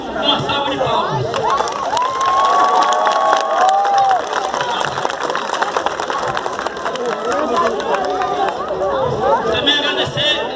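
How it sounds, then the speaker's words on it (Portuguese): Crowd at a São João quadrilha festival in Campo Formoso claps and cheers, loud and continuous, with chatter, shouts and children's voices woven through the applause. "com uma salva de palmas"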